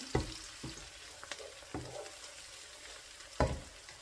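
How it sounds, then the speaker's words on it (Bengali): Onions fry gently with whole cardamom, cinnamon and bay leaves for a chicken curry, making a soft low sizzle with several distinct spatula scrapes and taps against the pan, close by and without talk. "একটু ভালো করে পেঁয়াজটাকে ভেজে নিই একটু লাল লাল করে ভালো করে ভেজে নিই"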